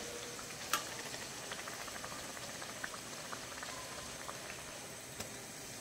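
Radhaballavi puris fry and puff in hot oil with a soft, continuous bubbling and crackle, faint and close, with a few small ticks.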